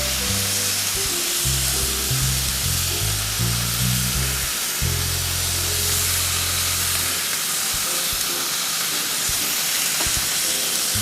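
Chicken satay sizzles and fries in a pan with a constant loud hiss, while low rumbling bursts come and go beneath it, and nobody speaks.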